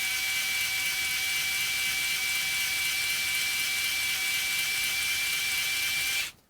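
A VESSEL Electric Ball Grip Screwdriver Plus 220USB-P1, a 3-speed model, spins in first gear at roughly 280 RPM, producing a steady, close, high-pitched motor whine that holds evenly before stopping abruptly.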